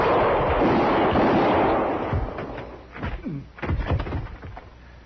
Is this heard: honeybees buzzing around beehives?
no